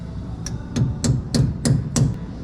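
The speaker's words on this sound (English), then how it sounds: "So we need a chisel and a hammer." Hammer striking a chisel against a rusty rear brake drum, six sharp metallic blows in a steady rhythm about a third of a second apart, close and loud.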